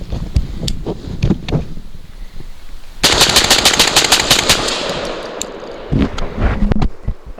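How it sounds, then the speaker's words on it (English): A Genesis Arms Gen 12 shotgun with a 10.5-inch barrel fires ten rounds of 12 gauge birdshot in a very fast, loud string of sharp blasts. Wind rumble comes before and after the burst, with scattered shots around it. "So I want to show you just how powerful and how quick 12 gauge can be."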